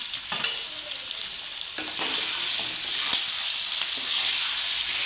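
Steady sizzling of pork frying in a pan with chopped tomato, with a few scraping stirs of a utensil breaking through the hiss.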